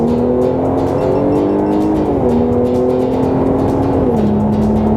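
A Mercedes-AMG C43 engine drones loudly from inside the cabin, its pitch climbing and dropping in steps as gears shift while it accelerates.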